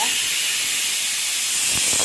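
A pressure cooker hisses steadily with steam while pongal cooks, a loud, continuous close-up rush with faint clatter near the end.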